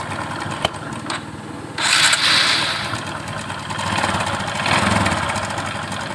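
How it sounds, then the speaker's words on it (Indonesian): A motorcycle engine idles roughly with a rattling cam chain, worn after a late oil change. The steady mechanical clatter stays close, swells in short throttle surges and runs alone. "Kasar. Nah, kalau untuk suara seperti ini biasanya itu di suara rantai keteng atau sentrik"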